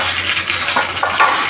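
Urad dal sizzling as it drops into hot oil already seeded with mustard seeds for a chutney tempering, a steady bright crackle with a few sharper pops and a faint metallic clink of the pan.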